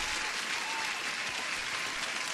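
Steady, dense applause rolling on without a break, fairly faint and even in level, with no clear talking over it.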